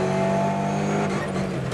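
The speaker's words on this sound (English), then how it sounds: "Down into first gear and a brief respite as we get back on the tarmac" A rally car at the 1995 Lurgan Park Rally drops down into first gear coming back onto tarmac, its engine roaring loud and close, then easing slightly as the revs fall.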